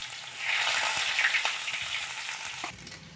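Chopped onions, dried red chillies and fenugreek seeds frying in hot oil for an Andhra-style cauliflower curry, a steady close sizzle that swells and then eases, with a faint clink near the end and no voices.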